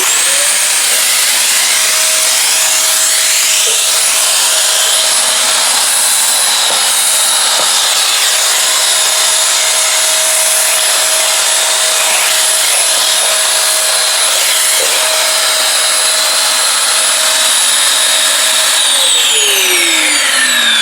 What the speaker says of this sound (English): So if you want to vacuum underneath it, this tool is very, very good